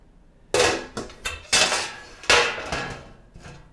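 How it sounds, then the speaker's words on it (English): A fillet knife scrapes and knocks against a metal baking pan while prying meringue layers loose: several loud, sharp clattering hits with rough scraping tails, close and with no speech. "Maybe a fillet knife will do the trick."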